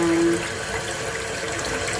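Tap water runs steadily into a sink while gluten dough is rinsed and washed for a vegan Kelbon roast, a continuous close hiss and splash with no talk.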